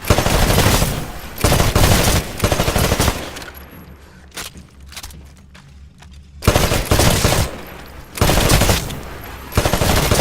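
Rapid automatic gunfire at shooting range targets in Titanfall, loud bursts crackling in two clusters separated by a few seconds of quieter rumble.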